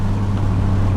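Engine drone from a Nissan 370Z Nismo during rev matching, a short, loud, steady low hum with a strong tonal note and no speech over it.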